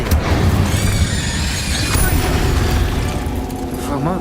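An Incendio fire spell is cast in the video game Hogwarts Legacy, a loud whooshing, crackling burst over booming battle effects and game music, all continuous and close.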